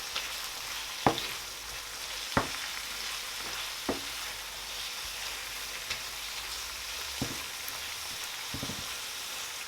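A sauce of tomato, ginger, garlic, salt, dry chili and Maggi is stirred in a pot on the stove, giving soft steady sizzling with several sharp scraping knocks of the spoon against the pot.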